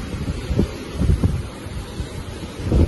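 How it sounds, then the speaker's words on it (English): Strong wind buffets the microphone on a cruise ship deck in choppy seas, a continuous rough roar with gusty surges and no talking. "It is very windy to walk."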